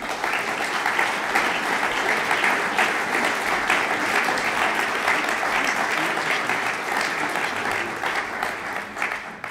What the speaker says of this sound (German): da machen wir natürlich nochmal einen Applaus, ist ja klar, der Herr Eger